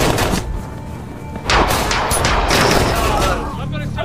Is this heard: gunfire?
yes